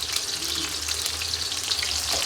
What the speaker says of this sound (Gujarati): હવે નાખવાની છે એમાં ડુંગળી